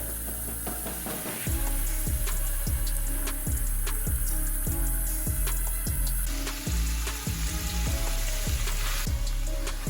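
Beef neck bones frying in hot grapeseed oil in a pot, a bright steady sizzle joined by a regular series of sharp scraping knocks as the pieces are moved around, loud and close with no talking.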